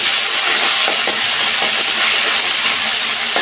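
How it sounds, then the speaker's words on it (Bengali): Whole garam masala, cumin, ginger and turmeric powder frying in a pan, giving a steady, close, bright sizzling hiss that holds without a break, with a few faint clicks and pops. "মশলাটা এখন কষাই নিই"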